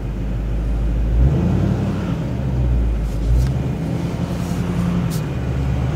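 A semi truck, unloaded, revs its engine while stuck in a tacky field, a deep low rumble surging and easing in waves at close range.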